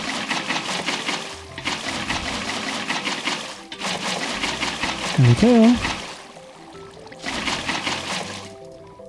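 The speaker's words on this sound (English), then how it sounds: "we're going to go ahead and fill this all with water" Water flowing into a rooftop swimming pool in the Minecraft game, bursts of trickling, pouring water that start and stop in several stretches, with someone talking briefly over it.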